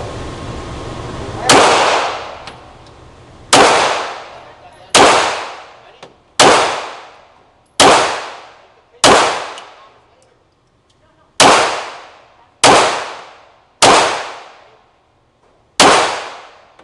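Ten loud, sharp gunshots from a firearm during shooting practice, spaced a second or two apart, each ending in a decaying ring.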